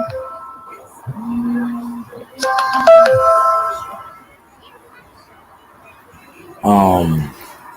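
A phone rings and chimes with notification alerts in short electronic bursts, rising in pitch at the end, alongside people talking.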